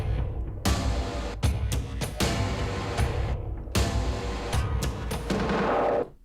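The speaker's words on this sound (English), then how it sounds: "Damage is a library of scary loops that all sound like this." Scary loops from the Damage sample library play back as dense, loud, distorted percussive hits and booming bursts, stopping abruptly between phrases in a stuttering, aggressive rhythm for about six seconds, with no voices.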